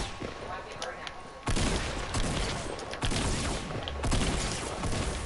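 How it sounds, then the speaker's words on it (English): Rapid bursts of video game gunfire in a shootout, loud and close, with several sharp volleys landing at irregular intervals over a noisy, busy background. "Keep on shooting at him"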